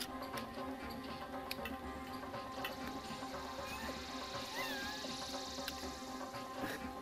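A cat meows and caterwauls at the smell of a freshly harvested aquaponics trout, its calls faint and intermittent over a steady, busy outdoor background.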